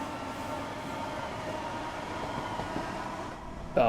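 Class 465 Networker electric train in Train Sim World 3, a steady rolling rumble with faint motor whine under it, and a brief sharp tone at the very end.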